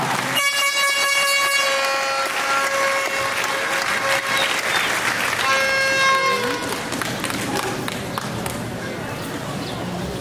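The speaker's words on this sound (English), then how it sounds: "Let's give them another big round of applause." Loud, sustained audience applause at a college commencement ceremony, a dense wash of clapping mixed with blasts from air horns and cheering voices throughout.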